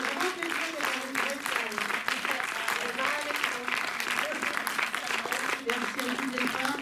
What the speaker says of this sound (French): on peut applaudir Keren Benrachel